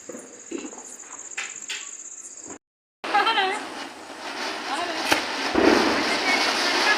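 Diwali firecrackers crackle and pop in a busy outdoor night scene, with a sharp bang near the five-second mark; voices talk throughout, and a brief dropout interrupts the noise.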